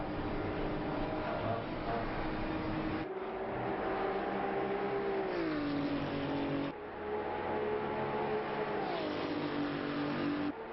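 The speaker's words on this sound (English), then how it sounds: "Sometimes you just want to hear the cars, you know? Let them rev out" GT2 race car engines in Assetto Corsa Competizione at Spa-Francorchamps drone loudly and continuously, the pitch climbing through revs and dropping at gear shifts several times, with no talk over them.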